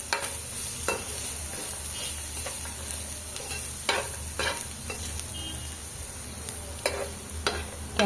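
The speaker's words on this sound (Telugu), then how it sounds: "క్యారెట్ అయితే బాగా ఫ్రై కావాలండి" Grated carrot and vegetables fry in a pan with a steady, close sizzle, while sharp stirring scrapes and clatters recur every second or so over a low background hum, with no one talking.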